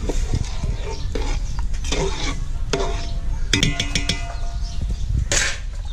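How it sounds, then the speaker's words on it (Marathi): A spoon stirs village-style mutton in a pot over a wood-fired stove, with scraping clinks and irregular knocks against the metal over a steady background hiss. "आणि ते आता हलवून घ्यायचं"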